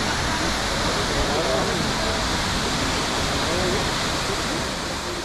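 Roar of the Triberg waterfalls in a German forest: a dense, steady rush of falling water, loud and unbroken throughout, with no voices.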